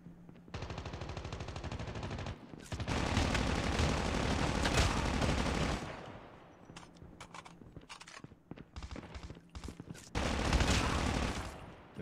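Loud sustained automatic gunfire in the mobile shooter Call of Duty Mobile, long rapid bursts separated by quieter gaps with scattered single shots.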